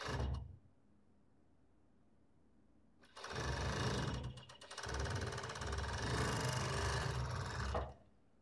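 A sewing machine stitching the shoulder seam of a long-sleeve robe, a short whir at the start, a pause, then a loud steady mechanical run of about five seconds with a brief dip in the middle.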